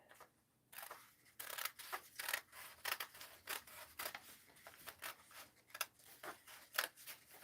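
Scissors snipping through a paper sloper pattern to true a dart, a steady series of close, quiet crisp cuts in irregular rhythm.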